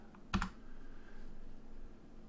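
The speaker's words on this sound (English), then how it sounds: "go to your Google search browser and type Google" A brief burst of computer keyboard typing, a few quick clicks close by, followed by quiet room hum while a search is entered.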